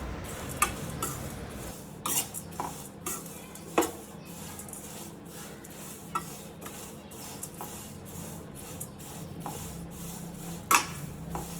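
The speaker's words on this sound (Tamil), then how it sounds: "ஒரு கப்பில் எடுத்து கடாயில் போட்டு நல்லா வறுத்து எடுத்துக்கலாம்" White poha (flattened rice) dry-roasts in a kadai while a utensil stirs it, giving a dry rustle with scattered metallic scrapes and taps at an irregular pace.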